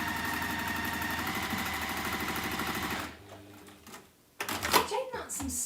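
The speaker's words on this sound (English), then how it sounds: "that's some seriously speedy sewing that you're doing this morning" A sewing machine running fast, straight-line stitching on quilt strips, a loud steady rapid mechanical whir for about three seconds, then a pause and a brief restart.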